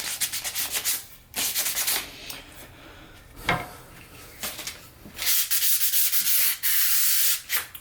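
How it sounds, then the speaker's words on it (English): Light hand sanding of a new wooden practice sword's beveled edge, raspy back-and-forth rubbing strokes in bursts with brief pauses between, close and clear with no talking. "now that we've got our light sanding out of the way"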